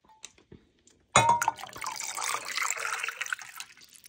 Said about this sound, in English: let me fill my water